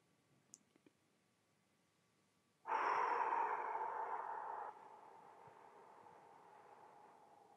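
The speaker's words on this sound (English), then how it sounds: "And push out and breathe out." A slow, deep exhale during a breathing exercise: a long, close, breathy push of air begins abruptly, holds strong for about two seconds, then tapers into a softer, sustained outflow.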